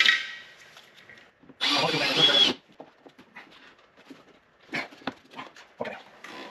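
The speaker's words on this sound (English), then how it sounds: "Okay, a lot of drilling." A power drill whirs in one loud burst of about a second, surrounded by quieter clanks, rustles and handling noises, while fender flares are riveted onto a Polaris RZR Pro XP.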